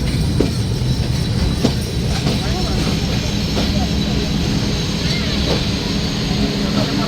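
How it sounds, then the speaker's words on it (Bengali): The Padma Express intercity train rumbles steadily nearby as it departs the station platform, with low continuous rolling noise and faint rail clatter, a long mechanical drone running throughout. "ছেড়ে যাচ্ছে ফাইভ আপ ট্রেনটি"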